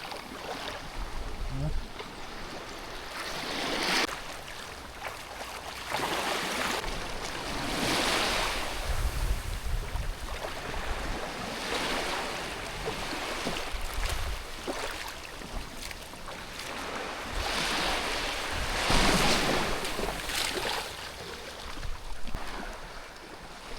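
Waves wash onto a secluded beach shoreline heard from a small 8-foot boat, a continuous broad surf roar that swells and recedes in slow surges, mixed with gusty wind buffeting.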